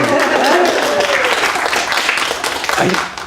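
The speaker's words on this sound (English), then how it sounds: "they know that you're cheering right now" Audience cheering and applauding at a UU Talks event, a dense sustained wash of clapping and crowd noise with a few raised voices, fading slightly toward the end.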